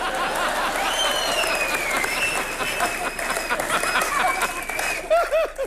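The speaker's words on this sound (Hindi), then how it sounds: "अच्छा, एक बार कपिल शर्मा के लिए जोरदार तालियां।" A studio audience claps loudly for comedian Kapil Sharma, dense applause mixed with crowd noise and a little laughter, while a voice speaks over it and musical tones sweep through near the end.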